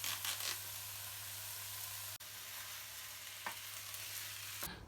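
Food with chilli sizzling and frying in a pan during home cooking, a steady dense hiss with a couple of brief stirring clatters, continuous and close with no talking.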